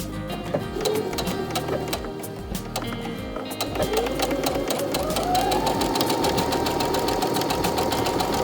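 Sewing machine stitching a 3/8 inch seam on a fabric face mask, a steady rapid needle clatter running continuously and rising slightly in pitch partway through, close and alone.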